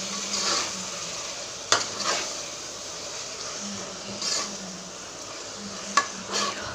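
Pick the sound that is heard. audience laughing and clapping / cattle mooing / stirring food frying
stirring food frying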